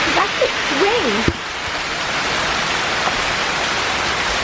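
Heavy rain during a storm with tornado warnings in Alabama, a loud continuous roar like a waterfall filling the whole clip, with a brief voice near the start before the downpour continues alone.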